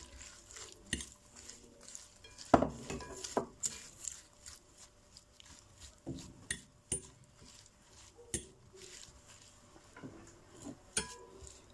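A utensil scrapes and clinks against a dish while salad with Italian vinaigrette is mixed for a potato and ground meat gratin, irregular close knocks and taps without talk.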